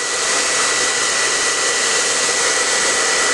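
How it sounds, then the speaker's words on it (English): Conair 1875 watt hairdryer blows steadily, a loud, even whooshing hiss with a thin high whine that holds constant from start to end, with no voices. "1875 watt hairdryer"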